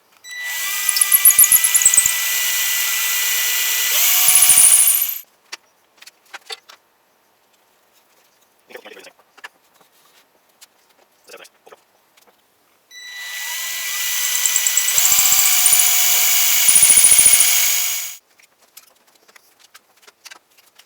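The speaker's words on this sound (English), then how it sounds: "I'll drill this hole going in this way." A power drill bores a hole through a colonial stair baluster held in a jig, two loud close bursts of high whining several seconds long, separated by quiet clicks and handling noises.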